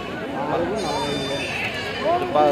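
Male goats bleating at a busy sheep and goat market, several calls rising over a dense crowd murmur and nearby talking.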